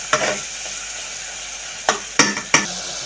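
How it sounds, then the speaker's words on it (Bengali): Spices with a little chilli powder fried in a pan, a quiet sizzle punctuated by a few sharp, close scrapes and knocks of a spoon stirring, the last three in quick succession. "দিয়ে আমি মশলাগুলো ভালো করে কষিয়ে নেব"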